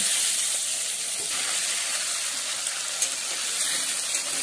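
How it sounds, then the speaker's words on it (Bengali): Potatoes frying in hot oil for a fish-head cabbage dish, giving a steady, close sizzling hiss that holds evenly throughout with no talking. "এরপরে তেলের মধ্যে আলুগুলো দিয়ে ভেজে নেব"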